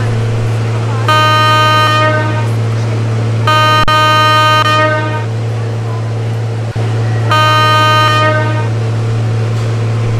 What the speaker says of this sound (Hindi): चलिए हॉर्न मार के डिपार्ट करते हैं।